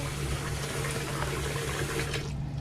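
Water runs steadily into a basin for washing angora yarn, a continuous close pouring rush with no voices over it.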